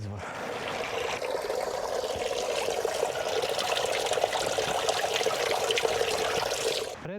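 Spring water near a monument in the Pešter highlands of Sjenica, Serbia, pours and splashes in a steady, close rush that runs evenly throughout.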